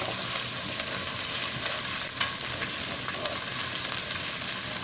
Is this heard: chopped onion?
yes